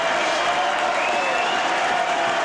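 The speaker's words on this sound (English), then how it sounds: "So Jeff Wildman Robinson getting a good round of applause from the Halifax crowd." A Halifax crowd at a 1986 rugby league match against Warrington applauds a substituted player, a broad, steady wash of clapping from the stands.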